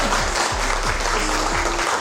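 An audience claps together at an achievers' gathering, a loud, even wash of applause that holds steady for about two seconds, with a faint voice underneath.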